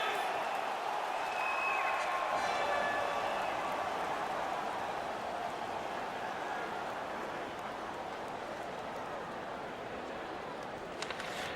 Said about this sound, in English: The home crowd is pretty excited about that.